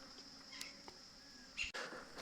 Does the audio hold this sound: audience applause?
no